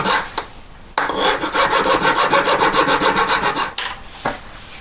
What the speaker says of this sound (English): Needle files. Just take a bit of weight off there.